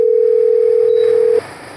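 A steady telephone tone sounds while a call is being placed, a single continuous pure note lasting just over a second before cutting off abruptly into quiet line noise, with no voices.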